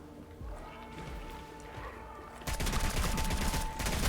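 A folding SMG in a video game fires a dense burst of rapid shots, loud and close, after a quieter stretch of background game noise.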